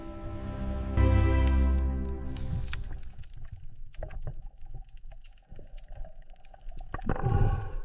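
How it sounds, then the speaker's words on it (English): A narwhal, a tusked whale swimming in Arctic waters, gives a deep harmonic moan followed by scattered clicks and gurgling squeaks, fairly loud and with no talk. "that's a narwhal, a whale with a long spiral tusk, swimming in Arctic waters"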